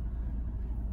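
A truck on the road, a steady low rumble of engine and tyres heard from inside the cab, constant and moderately loud with no other sounds.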